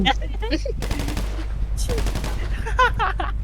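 Rapid automatic gunfire in a FiveM police roleplay video game, loud bursts of shots crackling under excited voices of players talking over each other.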